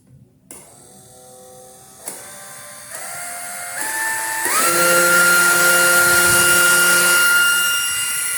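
A homemade electric ducted fan driven by a 12V motor spins up in stepped bursts, its whine climbing in pitch with each step until it holds a loud, steady high hum for several seconds.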